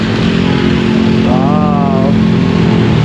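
Busy street traffic of cars and motorcycles in Kalentong, Manila, with a steady loud engine drone, a motorcycle revving briefly in the middle, and a faint voice talking under the noise.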